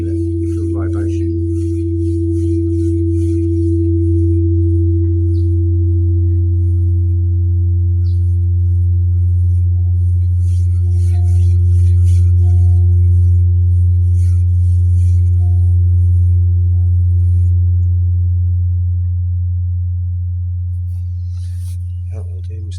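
Large gong dropped on a wooden floor in Laos, a deep, sustained humming resonance that swells slightly and then slowly fades over about twenty seconds, with no talking.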